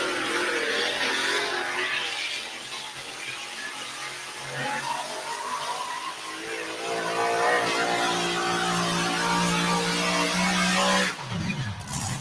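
A pulling tractor powered by twin Chrysler Hemi engines running on alcohol roars loud and sustained, its engine note rising before cutting off abruptly near the end, with no talk over it.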